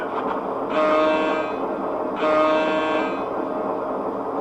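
A passenger train sounds two long horn blasts over a steady rumbling background as it pulls away, fairly loud and alone without talk.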